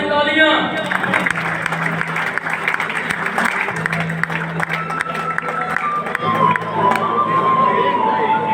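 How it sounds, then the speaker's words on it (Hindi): A crowd applauds and cheers at a prize ceremony for a pigeon-flying cup, with loud continuous clapping, shouts and voices, and some music or tones underneath. "बहुत सारी तालियां"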